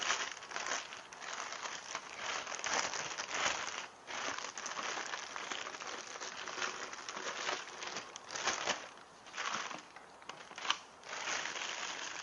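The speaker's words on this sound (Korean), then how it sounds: "비닐 커버를 벗겨낸 후 예, 제품이 이제 보이시죠?" Thin plastic vinyl cover peeled and stripped off a Hurion hydrogen water machine, giving a steady crinkling and crackling rustle with brief pauses, close and fairly quiet throughout.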